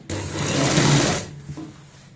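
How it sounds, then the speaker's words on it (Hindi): Sewing machine stitching fabric for a girl's sleeveless frock, running in one steady whirring burst of about a second before stopping, close by. "अब हम फिर से सिलाई हम इस पॉइंट से लाएंगे"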